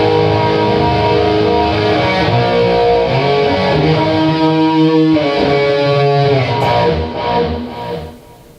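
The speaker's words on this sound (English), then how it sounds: "channel 2, that's the chorus and delay patch." Electric guitar played through a chorus and delay effects patch on an amp channel, loud layered chords with a shimmering wash that swells, then decays and fades as the delay trails off, no talk.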